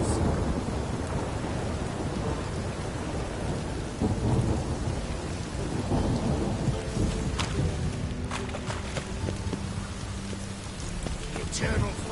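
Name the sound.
rain and thunder in video game Witcher 3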